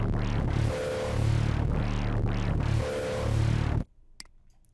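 Oki Computer 2 dubstep bass morphing with its step sequencer centred as normal, producing loud, smoothly sweeping wobbles that rise and fall in steady cycles before stopping abruptly, followed by a faint click and near silence.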